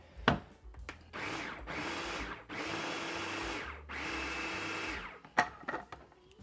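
A food processor pulses habanero, citrus and black pepper into a rough mince, two or three loud whirring bursts of a few seconds each separated by short pauses, close, with small knocks before and after.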